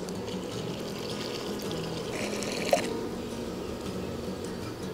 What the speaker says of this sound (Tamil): நம்ம தண்ணி ஊற்றி கொதிக்க விட்டுடலாம்